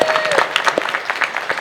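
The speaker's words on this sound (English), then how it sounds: "Everybody give a round of applause for our technicians." Audience applause for the technical crew at a fan convention panel with voice actors, a crowd clapping steadily with scattered cheers and voices mixed in, continuous and moderately loud.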